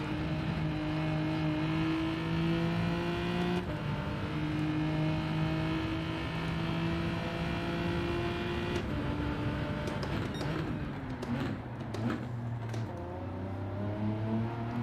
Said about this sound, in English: Does second gear get us wheel spin? Yeah, it kind of does.